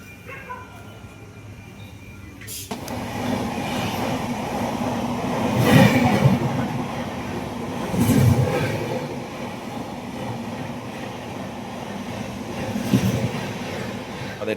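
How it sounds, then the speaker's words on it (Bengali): The 13027 Azimganj Kaviguru Express runs after leaving Bandel Junction, heard from on board as a continuous rumbling rattle of the carriage with periodic louder clatters. "আর বর্তমান আমাদের ট্রেন এখন ব্যান্ডেল জংশন ছেড়ে দিল"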